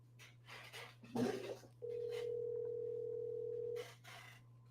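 A telephone call in progress: a short burst of noise, then a steady two-second dial or ringback tone sounds alone and stops, with faint background hum.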